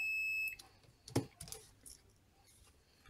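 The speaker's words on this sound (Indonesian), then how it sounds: "Buzzernya seperti ini bunyinya." A steady, high electronic buzzer tone from an Aneng PN128 clamp multimeter sounds for about half a second and then cuts off, followed by a few clicks and handling noises.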